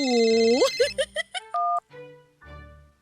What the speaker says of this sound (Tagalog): Uy, tumatawag na si Lloyd